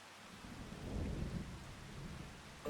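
Rain patters steadily with a low, rolling rumble of thunder swelling through the middle in a farming video game. The sound is distant and faint, with no voices.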